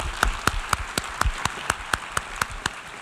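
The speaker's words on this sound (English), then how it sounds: "Really a big round of applause to you." An audience claps in a sparse, rhythmic applause, sharp individual claps repeating at a steady beat over a soft murmur of more clapping.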